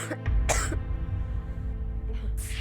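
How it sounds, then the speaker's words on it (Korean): A few harsh, breathy coughs and throat-clearing bursts from a tuberculosis patient, close and fairly quiet, with a rough, strained quality between them. "인터뷰가 힘들 만큼 심한 기침을 하는"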